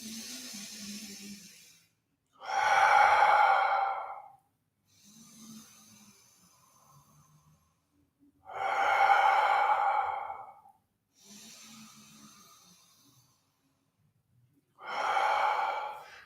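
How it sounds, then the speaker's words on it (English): Slow guided yoga breathing, each breath drawn in softly through the nose and then let out in a louder, airy exhale through the mouth, three full breath cycles spaced evenly with quiet pauses, close by and without talk. "Inhale from the nose, exhale from the mouth"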